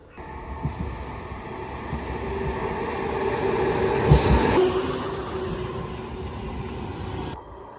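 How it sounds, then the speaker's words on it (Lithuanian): A train passing at a rail stop near Vokė, Lithuania, in cold weather, a low rumble that builds to a peak midway with a brief clatter, then fades before cutting off. "Dabar lauksim traukinio"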